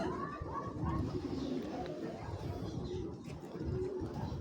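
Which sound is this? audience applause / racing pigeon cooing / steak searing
racing pigeon cooing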